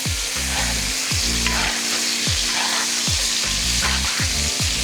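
Lamb chops sizzle loudly in a hot pan while being basted with garlic butter. The close, steady frying hiss runs under a repeating low rhythmic clatter from the basting.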